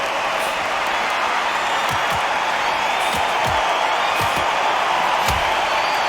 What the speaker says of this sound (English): Really good buzz in the air tonight. This crowd waiting for something special.